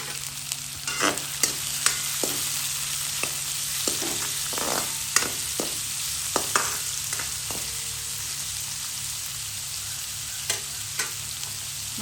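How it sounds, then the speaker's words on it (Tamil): Chopped onions and green chillies sauté in a pan for Tamil-style crispy potato patties, a steady close sizzle with repeated scraping stirs of a spatula throughout, no voices. "வெங்காயம் நல்லா வதங்கணும்"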